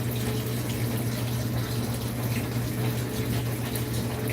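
Tap water runs steadily into a sink while food is rinsed under it, a continuous close rushing stream with no talk.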